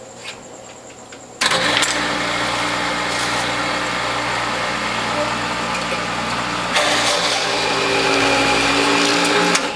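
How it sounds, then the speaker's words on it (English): A juicer fitted with a shredding grid with 1/8 inch holes shreds carrots, starting abruptly into a loud, continuous motor whir that grows louder partway through. "It does a better job on shredding carrots."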